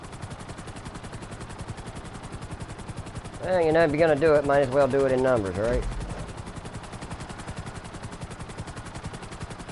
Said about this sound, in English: I am really surprised this chopper hadn't, like, died on me.